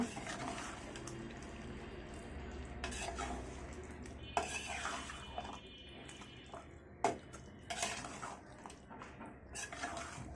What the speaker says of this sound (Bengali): এগুলোকে মাংসের সাথে মিশিয়ে নিব।